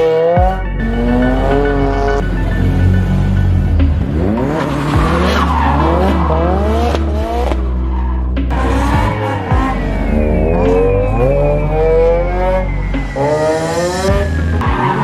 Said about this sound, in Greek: η ώρα να βάλουμε τα αυτοκίνητα έστω έτσι μέσα στην πίστα